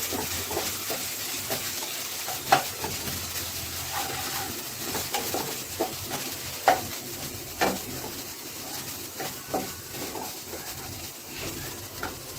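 Onion and garlic sizzle steadily in a hot pan for shrimp pulao, a constant frying hiss broken by irregular scrapes and knocks of a spoon stirring close by.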